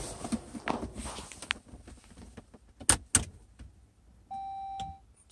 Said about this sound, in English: Turn the ignition key to on.